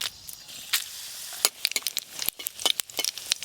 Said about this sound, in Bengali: শুক্তো রান্নার জন্য ফোড়নে দেব 5 ফোড়ন আর 4টে শুকনো লঙ্কা।